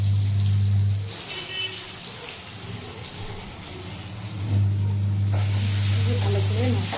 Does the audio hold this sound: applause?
no